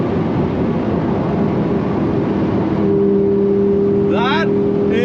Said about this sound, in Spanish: Eso fue solamente un poquito de puntilla y el coche está como volando.